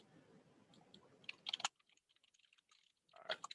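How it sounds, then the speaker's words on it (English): Typing on a computer keyboard, close and quiet, with scattered key clicks in short irregular bursts separated by near-silence. "Don't mind my typing."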